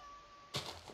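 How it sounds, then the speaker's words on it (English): A single short cat meow sounds abruptly after a moment of quiet hum, fairly faint and brief. "I swear I saw the cat over there."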